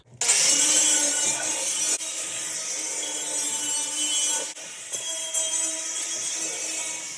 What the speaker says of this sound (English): Try to put the flap disc on here and clean up all this rough stuff.